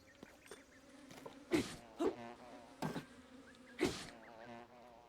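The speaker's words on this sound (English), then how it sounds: "Hello, bees." Bees buzz in Tears of the Kingdom, faint droning hums with several louder swells as insects pass close, over a quiet game background.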